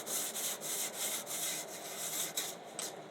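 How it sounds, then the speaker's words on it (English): Sandpaper wrapped around a 1/4 inch dowel rubs back and forth along the routed groove of a model sailboat mast, giving a steady, close rasping scrape in even repeated strokes with no talking. "A 1/4 inch dowel and a piece of sandpaper, just to smooth out"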